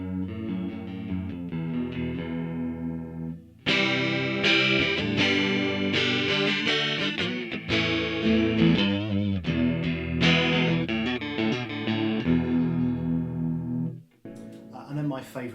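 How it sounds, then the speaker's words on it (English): Electric guitar played through a Vox AmPlug2 AC30 headphone amp with a thick, swirling chorus effect, strummed chords and picked notes ringing out loud, with a brief pause before the playing resumes. "Got a really kind of thick chorus."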